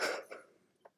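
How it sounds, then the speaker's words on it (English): A person coughs and hacks once, a sharp close burst that trails off, followed by a small throat sound, fairly quiet overall. "Sorry I'm like coughing and hacking,"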